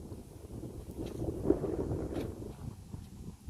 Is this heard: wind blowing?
yes